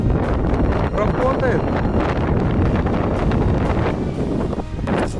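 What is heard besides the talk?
strong wind blowing on the Russian north coast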